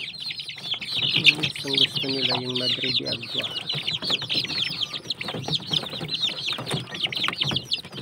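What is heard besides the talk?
chickens and chicks clucking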